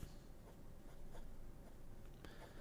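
An 18 karat gold broad-nib fountain pen with gold trim writes on paper, a soft continuous scratching with faint strokes, close and quiet with no voices.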